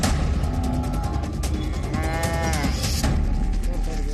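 A buffalo lets out a drawn-out moo amid loud, busy rattling and clanking mechanical noise.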